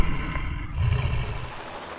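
A helicopter lifting heavy crates of cranberries from a field onto a lorry produces a continuous loud, rushing rotor roar, steady and close throughout.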